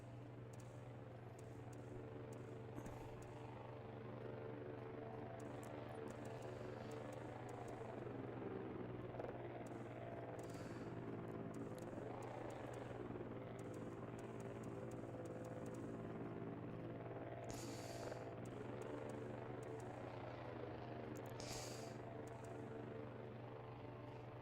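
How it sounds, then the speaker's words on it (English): A drone in the game Voices of the Void drones and whirs with a steady rotor hum that fades in and out, rising and falling gently over about twenty-five seconds, faint and unbroken with no talk. "There comes the drone."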